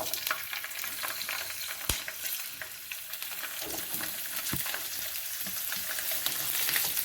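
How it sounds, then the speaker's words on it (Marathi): Chillies, garlic and ginger sizzle steadily in hot oil for a shivlya (clam) masala, a close and continuous frying hiss with a couple of sharp clicks from the pan. "आता ह्याच्यामध्ये मी मिरची, लसूण आणि अद्रक भाजून घेते आधी"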